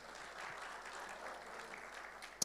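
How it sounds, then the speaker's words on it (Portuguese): Faint, brief applause from a church congregation, a soft, even spread of clapping lasting a couple of seconds and heard from a distance. "dê um aplauso bem forte ao Senhor"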